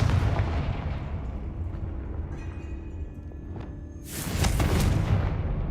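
A Confringo fire spell exploding in the Hogwarts Legacy video game, with a rumbling low boom that settles and then a second heavy, noisy blast swelling near the end.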